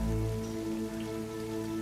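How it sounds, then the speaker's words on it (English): Steady rain from a scene in the 2011 film Thor falls as a soft, continuous hiss beneath a low sustained musical drone, with no voices over it. "The rain even softened the ground up for you."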